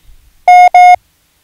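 Two long, evenly pitched electronic Morse tones, the dash-dash of the letter M, loud and clean, separated by a short gap against silence.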